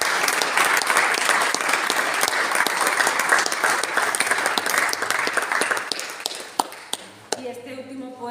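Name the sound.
audience applauding after a poem reading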